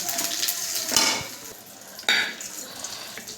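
Bay leaves, dried red chilies, whole garam masala and cumin hit hot oil in a pan used for frying katla fish, giving two sharp bursts of sizzle with light utensil clatter, close and without talk.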